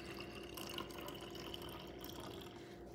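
Distilled water pours into an empty foaming pump bottle, a steady, soft splashing trickle that runs continuously for a few seconds with no voices.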